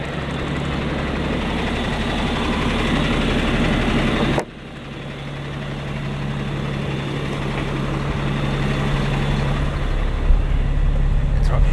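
Machine T19J0595 runs while being driven, a steady, loud low engine rumble that drops sharply in level partway through, then continues with a faint tonal hum as it gradually builds again.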